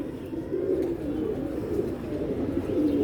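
A pigeon coos close by in soft, low, continuous throaty murmurs, with no other sound competing.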